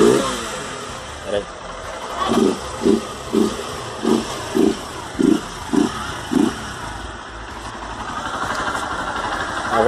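A Honda Fan 150cc motorcycle engine with its air filter intake removed idles, then gives a series of about eight quick revs in a steady rhythm, close by. Someone speaks briefly.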